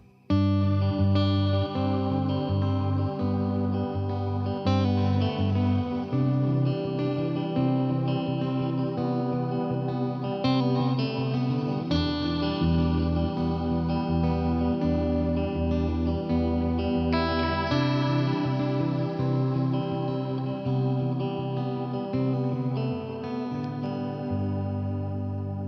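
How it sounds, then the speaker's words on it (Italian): Electric guitar played through a Hotone Verbera reverb pedal, chords and notes ringing out with a deep, natural wash of reverb and a shimmering chorus-like sheen, steady and loud throughout with no talking. "la profondità e la naturalezza di questo riverbero sono impressionanti"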